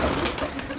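Pigeon cooing fills a short moment over a busy, noisy background, with soft bird sounds blending into the hum.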